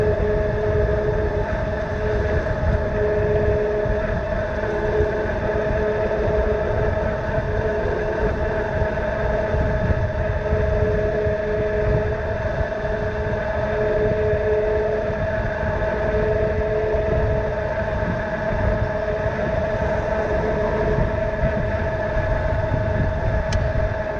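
A Juiced HyperScrambler eBike cruising on throttle only at around 26 mph in sport mode, a steady motor whine with layered tones over constant wind and road rumble, loud and unbroken with no talk.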